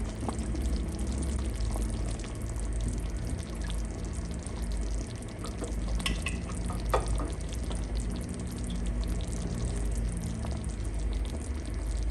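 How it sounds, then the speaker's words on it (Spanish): Chicken pieces sizzle and fry in a pan, a steady crackling hiss with small pops and occasional clinks, close by and alone. "Voy a empezar a agregar las piezas de pollo"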